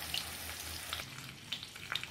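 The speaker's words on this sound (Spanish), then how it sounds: "freímos la carne en manteca" Pork loin frying in lard in a pan, giving a steady crackling sizzle with scattered sharp pops, close up and with no talking.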